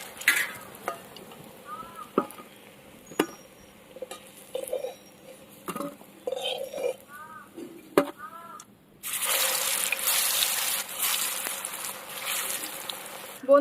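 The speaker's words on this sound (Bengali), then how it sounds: "উল্টে দিলাম ভালো করে, এবার এই পাশটা ভাজা হয়ে যাবে।" Raw banana koftas stuffed with prawn fry in oil, a quiet sizzle with scattered clicks and taps of turning them, then a loud dense hiss of frying swells up for the last few seconds.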